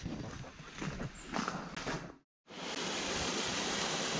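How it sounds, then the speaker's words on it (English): Waterfall on the Beddgelert circular walk in Wales, a steady rushing roar of falling water with some footsteps over it, broken by a brief gap before the rush resumes. "Waterfall."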